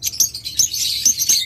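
Many small caged birds at a wholesale bird breeding farm chatter in a rapid run of high, overlapping chirps and tweets, close and busy with a low hum beneath.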